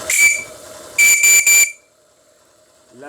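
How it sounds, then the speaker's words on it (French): A JMC steam whistle on a live steam model tug gives a loud, shrill blast followed by three short toots in quick succession, then a faint lingering hiss. "Le sifflet JMC."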